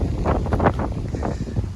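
Gusty outdoor wind buffets the microphone in loud, uneven bursts of low rumbling noise, with no talking.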